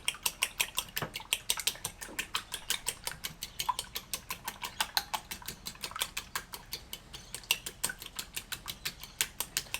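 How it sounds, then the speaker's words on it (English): Egg mixture for French toast gets whisked in a bowl outdoors in a backyard, making a quick, steady rhythm of light clinking taps, close but fairly quiet and without talk. "So I'll give this a bit of a whisk up here."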